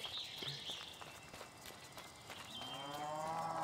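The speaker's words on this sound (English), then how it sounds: "Oh, I hear cows." Cows moo on a farm in the video game Little Misfortune, several drawn-out lowing calls over soft ambient footsteps, the last moo longest and loudest near the end.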